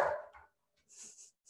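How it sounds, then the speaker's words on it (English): A dog barks indoors during an online security talk, a short bark followed by a quieter, higher yip, fairly faint and with no speech. "If she keeps barking, I will mute for a little bit."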